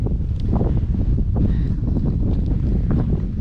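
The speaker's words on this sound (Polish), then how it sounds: "Wieje mocno, moje włosy to właśnie Wam pokazują, bo to jest wiatr" Strong wind gusts outdoors on a mountain and buffets the microphone with a loud, continuous, rumbling roar that never lets up.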